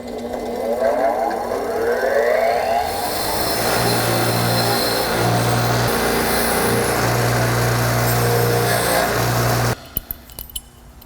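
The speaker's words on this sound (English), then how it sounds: "Just gonna hit them with the wire wheel." Wire wheel grinding burrs off a drilled metal bracket, a loud sustained whirring scrape with a steady motor tone that starts and stops in pulses, ending abruptly with a few clicks.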